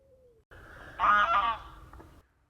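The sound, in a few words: goose honking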